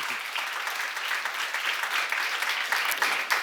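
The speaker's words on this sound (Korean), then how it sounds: "박수 한번 주세요." A church congregation at a seminar claps together in a dense, steady round of applause that fills the short moment from start to finish.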